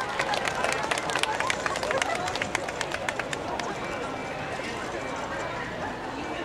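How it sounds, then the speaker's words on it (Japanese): Loud, steady applause from the crowd at a volleyball V.Premier season-opening talk show with players, a dense rattle of many hands that keeps going and then thins out slightly toward the end. "どうぞ大きな拍手をお送りください。"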